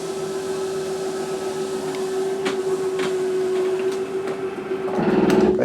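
RV slide-out motor on a 2022 Flagstaff Micro Lite 25BRDS humming steadily as the room extends, then shifting into a louder, rougher ratcheting buzz near the end as it reaches full extension.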